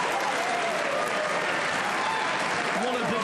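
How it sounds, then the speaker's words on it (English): A large arena crowd at a professional pool match at the US Open Pool Championship cheers and applauds loudly and continuously, a dense roar of clapping with voices mixed in. "What a big cheer reverberates around this Harrah's Resort Arena."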